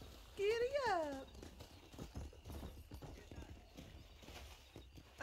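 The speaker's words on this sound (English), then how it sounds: "That's a horse." A horse in the Western video game Red Dead Redemption, its rider struggling to steer, gives a loud whinny at the start, then soft rhythmic hoof clip-clops continue steadily beneath background noise.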